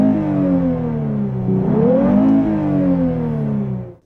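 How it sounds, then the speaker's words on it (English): A Lexus RC coupe's V6 engine revs high with a loud, smooth rising and falling whine, heard close up, building to a peak midway and then easing off before cutting out at the end. "how sweet this V6 sounds when you get up in the higher revs"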